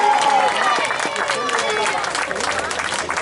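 A crowd at an elite heavyweight boxing event in Grado applauding boxer Daniel Picco, a sustained wash of clapping and cheering with babble and a whistle, under a loud announcer-style voice.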